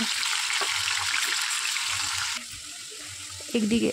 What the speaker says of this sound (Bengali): এরপর তেলের মধ্যে আমি চিকেনগুলো হালকা ভেজে নেব